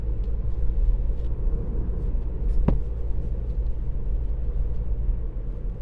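Steady low road rumble and engine drone from inside a 2018 Ford Fiesta 1.0 EcoBoost ST-Line three-door on 17-inch wheels with firm suspension and low-profile tyres, driving along a country road, constant throughout with one brief knock.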